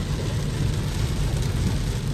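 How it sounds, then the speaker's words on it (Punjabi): Heavy rain drumming steadily on a car, a dense continuous roar with low rumble, no voices. "ਬਹੁਤ ਜ਼ਿਆਦਾ ਹੀ ਮੀਂਹ ਪੈਣ ਡਿਆ ਯਾਰ"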